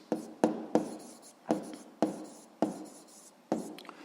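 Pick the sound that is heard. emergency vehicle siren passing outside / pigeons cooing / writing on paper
writing on paper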